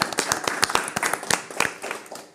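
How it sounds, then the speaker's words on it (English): Small audience clapping together, a quick patter of close, sharp hand claps for a couple of seconds that thins out toward the end. "I want to have a big round of applause for you now."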